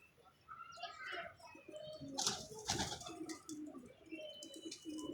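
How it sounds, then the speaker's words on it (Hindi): A pigeon coos softly close by, its low repeated calls mixed with faint chirps from other birds and a brief rustle partway through. "ये मिस्सा डब वाला कबूतर है"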